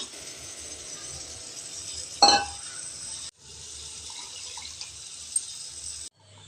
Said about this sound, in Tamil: இப்போ பருப்பு தண்ணி விட்டுறலாங்க